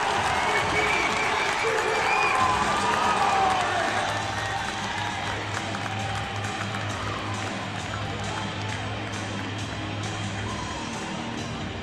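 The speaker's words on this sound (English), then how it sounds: "And listen to this crowd." Loud, steady roar of an ice hockey arena crowd cheering and applauding after players fight on the ice, sustained throughout with a commentator's voice running over it.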